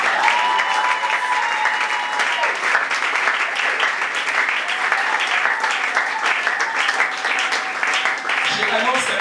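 A church congregation applauding to acclaim God during a service, sustained loud clapping from a crowd with voices mixed in, steady throughout.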